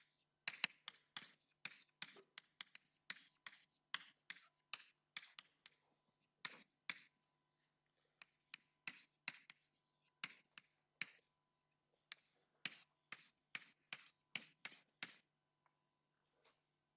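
Chalk or marker taps and scratches against a board as a lecturer writes out Hölder inequalities in a fluid dynamics lecture, a faint, irregular run of quick strokes in bursts with short pauses.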